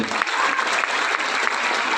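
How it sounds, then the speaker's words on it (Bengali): A direct-selling event audience bursts into dense, steady applause for an honoured member, a continuous wash of many hands clapping, loud and close throughout. "তো মিস্টার এমডি শরীফ ইসলামের জন্য ফাটিয়ে হাততালি।"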